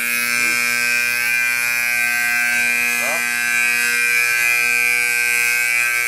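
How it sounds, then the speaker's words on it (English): A building fire alarm set off during a fire escape load test sounds as a loud, continuous electronic buzzing tone with steady harmonics, unbroken from start to finish. "I set off the alarm."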